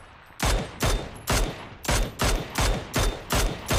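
Eight loud, evenly spaced bursts of automatic fire ring out in a steady rhythm during a PUBG match on the Miramar desert map, each burst a short rattling cluster of shots with brief gaps between.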